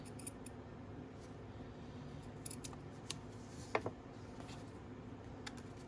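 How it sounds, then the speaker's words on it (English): Scissors trimming the edge of a junk-journal page, a few faint, quick snips over a quiet room, with no talking. "So I'm just gonna trim this down."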